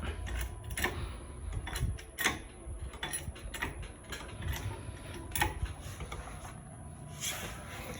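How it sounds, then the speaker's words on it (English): A Pittsburgh 2 ton trolley jack lifting a car gives off repeated metallic clicks and ratcheting knocks in an irregular rhythm, close and fairly quiet, with no talking. "So we can continue jacking it up."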